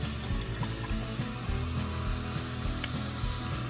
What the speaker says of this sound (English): I'm gonna take my frozen raspberries and run those under a little bit of water to melt the ice that is in there